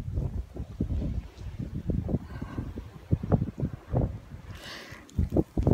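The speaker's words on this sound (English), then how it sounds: "It's blizzarding out." Blustery blizzard wind buffets the microphone outdoors with heavy snow coming down, a rough, gusting roar with irregular low thumps and a brief airy hiss near the end.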